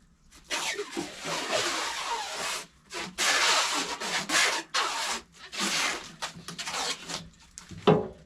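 Plastic wrap stretched and pulled around a bundle of firewood pieces on a table, giving long, loud, close rubbing and crinkling strokes with short pauses between passes.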